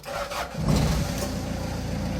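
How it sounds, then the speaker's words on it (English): A 2000 Hyundai Porter diesel truck with manual transmission cranks briefly and catches, settling into a steady, close diesel idle with a low rumble that holds evenly to the end. "let's start the engine now"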